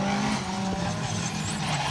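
Vauxhall Nova rally car on a tight, twisting stage of the Rali Menai Stages in 2023, its engine roaring loud and close and tyres squealing, while a commentator talks over it.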